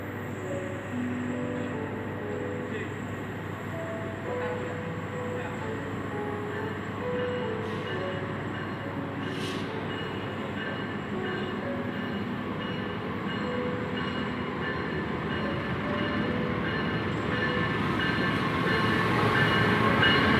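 The Ranggajati train rumbles steadily past at close range at Jember station, Indonesia, with a constant low roar and faint rail clatter building slightly toward the end.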